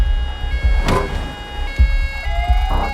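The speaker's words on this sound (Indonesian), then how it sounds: "mendengar alarm toko yang menyala, Lino menyuruh Quentin untuk kabur" Jewelry store alarm going off in a film scene, a loud electronic wail with sustained tones and rising sweeps, mixed with short low thuds and bursts of noise, no talking.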